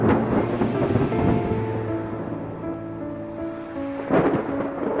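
Rain pours steadily through a forest while thunder rolls and rumbles low beneath it, with a louder thunderclap near the end.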